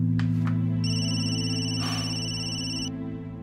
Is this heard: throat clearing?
no